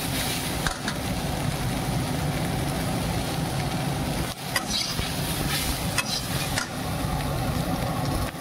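Onions frying in a pan with salt and turmeric give a steady, even sizzle with faint occasional scrapes and clicks of stirring, continuous and close.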